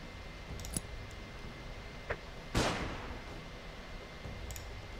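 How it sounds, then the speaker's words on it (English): A flashbang grenade goes off in the post-apocalyptic game Underrail: a couple of soft clicks, then one sharp bright burst with a short hissing tail, fairly quiet over a steady low background hum. "Let's throw a flashbang."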